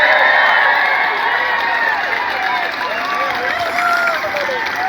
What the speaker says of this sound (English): Give yourselves a rip-roaring cheer.